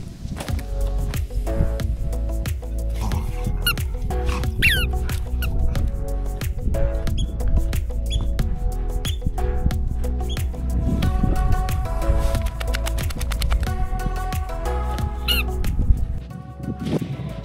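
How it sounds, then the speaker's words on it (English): A dog squeaks a small toy on an Outer Hebrides island beach in Scotland, with repeated short, high squeaks scattered throughout over steady outdoor background noise. "I don't know if you can hear him squeaking his little toy in the background"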